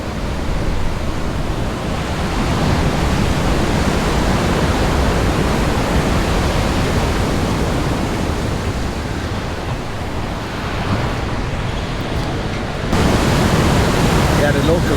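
Big ocean waves roll in and break at Keawaʻula Bay on Oʻahu, a loud continuous roar of surf filling the whole stretch without letting up.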